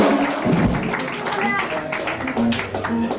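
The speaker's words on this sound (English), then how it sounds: "let's give Joe a big round of applause" Crowd at a live blues show at the Thunderbird applauding, sustained clapping and a few scattered cheers, with some voices mixed into the rolling sound.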